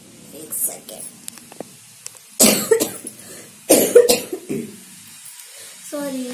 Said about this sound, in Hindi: सॉरी, मुझे है खांसी।